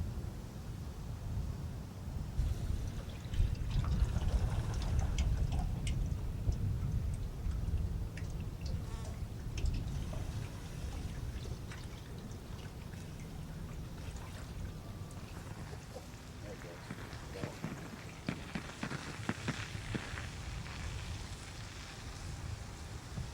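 A tractor-driven pump pushes river water through an irrigation water gun, giving a continuous rushing, droning spray with a low engine rumble beneath, steady and fairly loud throughout with faint buzzing insects mixed in.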